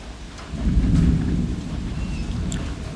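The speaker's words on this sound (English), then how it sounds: "that thunder is crazy." Deep rolling thunder swells and slowly fades, with steady rain hissing throughout and no voices.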